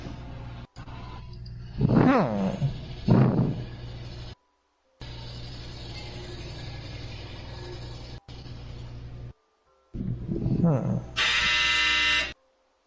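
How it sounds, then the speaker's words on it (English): A home clothes dryer runs with a steady low hum and motor drone, broken by brief cuts. People talk over it at points, and a harsh buzzing tone rises near the end. "It was my dryer, I believe?"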